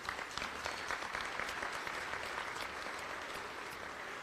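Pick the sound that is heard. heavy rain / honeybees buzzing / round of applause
round of applause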